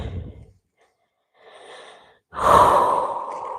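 Breathing during a yoga flow: a soft breath, then a near-silent pause, a faint inhale, and finally a loud, long, close exhale through the nose or mouth.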